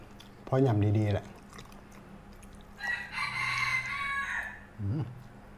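A rooster crows close by in one loud, harmonic-rich call lasting under a second, followed by background murmuring and a brief second crow-like call near the end.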